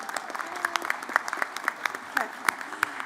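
A convocation audience gives a short round of applause. The claps are sparse and uneven, spread across about three seconds, and come from a modest crowd in a hall.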